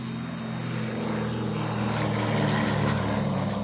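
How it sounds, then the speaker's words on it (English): A small propeller airplane, used for flights with special needs kids, drones steadily and loudly close by with a constant engine hum and no speech. "We flew big planes, little planes, and even a penguin, news chopper that is"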